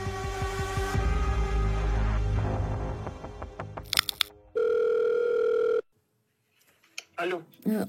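On an outgoing telephone call, a sustained ringing tone sounds for over a second after a burst of mixed tones and clicks, then cuts to silence before a brief voice comes in at the end.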